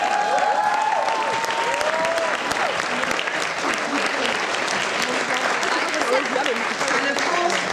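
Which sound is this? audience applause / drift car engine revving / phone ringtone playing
audience applause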